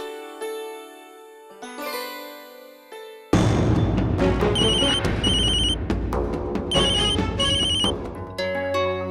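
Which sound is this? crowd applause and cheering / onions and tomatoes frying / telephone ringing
telephone ringing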